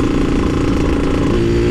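A 124cc carbureted motorcycle fitted with a small-diameter aftermarket exhaust runs loud and close, its engine droning in a steady high rev with a slight pitch shift near the end, no talk over it.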